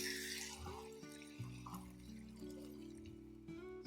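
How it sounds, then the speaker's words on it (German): Water is poured into a Dutch oven of shepherd's goulash cooked over an outdoor hobo stove, a quiet splashing fill with clinks and a faint tonal ring from the pot. "Und ich werde das jetzt anschütten mit Wasser."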